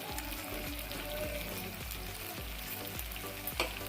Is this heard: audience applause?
no